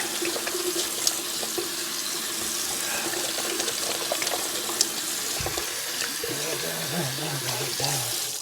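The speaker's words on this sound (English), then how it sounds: "Mama said, wash your hands good." Tap water runs steadily into a sink while hands are washed beneath it, a continuous close splashing stream with faint background sounds and a low tone late on.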